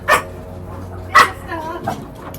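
A dog barks a few times, two sharp close barks followed by a softer third, with faint background noise between them.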